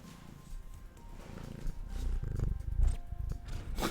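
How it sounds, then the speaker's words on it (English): A pet cat purrs close to the microphone, a low rumbling, pulsing purr that swells in the middle and continues steadily to the end, with no other sounds over it. "My cat's saying hello."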